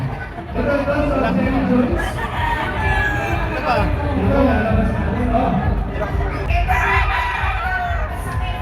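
A pure white Kelso gamefowl rooster, Class AB, crows repeatedly amid a busy crowd with chatter and other roosters crowing nearby, all over steady background voices.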